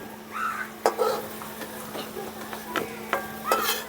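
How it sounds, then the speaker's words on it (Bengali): Fried potatoes scooped out of hot oil in a home kitchen for aloo posto: a soft frying hiss under a few sharp clinks and scrapes of a slotted spoon against the pan, close and quiet, with no talking. "আলুগুলো খুব সুন্দর করে ভেজে নিয়েছি, এখন তুলে নিচ্ছি।"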